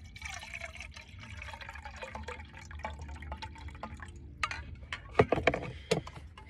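Hot chocolate is poured into a metal canteen cup in a WW2-style trench, a soft trickle of liquid with scattered drips and splashes growing louder near the end, over outdoor background noise.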